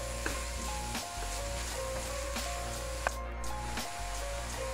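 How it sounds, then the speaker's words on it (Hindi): Carrots roasting in desi ghee for gajrel rice kheer, a steady soft sizzle with a few faint scrapes and taps, close and even throughout with no talk. "गाजरों को मैं 2 मिनट के लिए अच्छी तरह भून लूँगी घी के अंदर"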